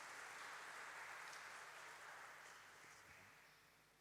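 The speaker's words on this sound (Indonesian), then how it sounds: "Kita boleh tepuk tangan ya." Wedding guests applaud inside St. Laurentius Church during a holy matrimony ceremony, a soft, diffuse wash of many hands clapping that holds steady and then gradually fades.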